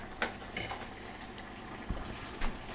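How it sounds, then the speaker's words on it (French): Risotto being stirred in a pot after broth was added, with a spoon scraping and clinking against the pot and soft bubbling in a quiet kitchen, occasional louder scrapes over steady low simmering. "Il faut tout le temps touiller."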